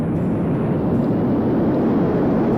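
An airplane engine in the Simple Planes flight game runs at full throttle, a steady, loud, broadband roar that holds without change.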